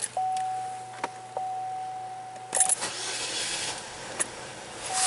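A Chevy Equinox with a low-power fault is started with the key: an ignition chime tone and a few clicks lead into a short crank that catches and settles into a quiet idle, recorded close by with no talk.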